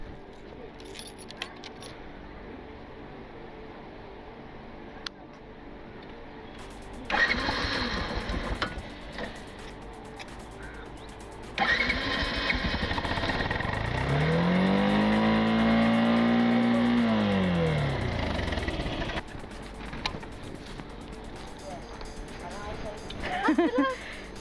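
A motorcycle engine starts and runs to inflate a balloon fixed to it, with key jangling and handling noises first, then a steady loud engine drone rising and falling in pitch for several seconds, with talk at the edges.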